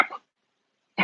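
Two short, sharp puppy barks, one at the start and one at the end, with silence in between.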